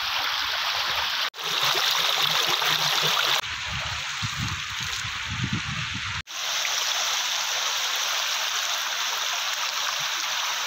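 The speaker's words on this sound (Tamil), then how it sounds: "தண்ணி சூப்பரா வருதுங்க." Water rushes steadily in a nearby stream at Jamunamarathur, Tiruvannamalai district, a continuous loud flow with gurgling and splashing, briefly dipping at moments.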